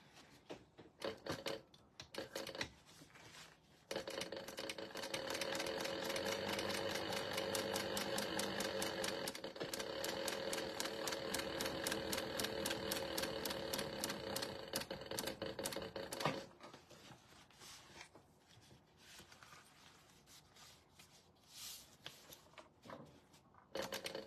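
A sewing machine stitching a cosmetic case runs in a long, steady, fast burst of needle clatter, with brief starts and stops of handling noise before and after, close by and without speech.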